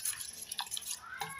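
Water poured into sathu maavu flour in a bowl for baby porridge, heard as light close splashes and a few drips and clinks that come in short bursts.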